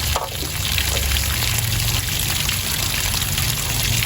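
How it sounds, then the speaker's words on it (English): Water drains steadily from an RV water heater tank, a constant close rushing gush with no pauses throughout. "And we're just gonna let that drain out."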